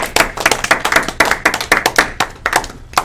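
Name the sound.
audience applause and clapping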